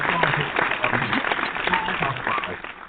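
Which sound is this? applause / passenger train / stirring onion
applause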